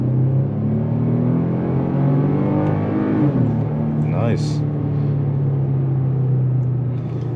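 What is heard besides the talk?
pickup truck accelerating uphill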